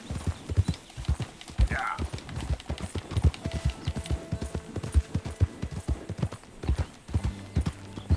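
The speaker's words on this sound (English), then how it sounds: "Come on, Horsey" Horse hooves clip-clop at a gallop in a Western video game, with a regular, fairly loud beat of close hoofbeats, a brief whinny early on and faint game sounds underneath.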